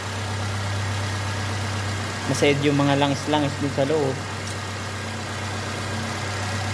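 A Nissan Sentra engine idles while warming up, its exhaust checked for smoke; a steady, low mechanical hum runs throughout while someone speaks briefly over it in the middle.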